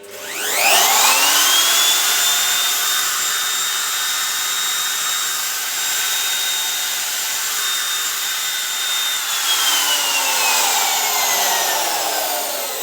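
An electric wood router spins up to full speed and holds a steady, loud, high-pitched whine for several seconds, then starts winding down near the end, with no voices.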